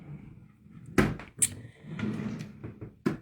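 Drawer in a home office and crafting studio being opened, a couple of sharp wooden knocks and a sliding rumble, close and fairly quiet.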